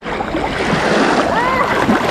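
A person jumps into a clear river, Sungai Kenerong at Dabong, setting off a loud, close rush of splashing and churning water that swells and carries on for about two seconds.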